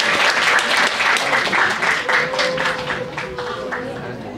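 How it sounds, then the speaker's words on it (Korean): A chapel audience at a high school service claps steadily after a student's testimony, a dense, even round of applause that fades slightly toward the end. "다시 한번 큰 박수 합시다"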